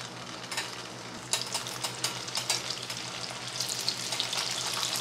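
Vegetable lumpia fry in hot oil with a soft, continuous sizzle and crackle, joined by scattered louder pops and stirring clinks, fairly faint and close, with no voices.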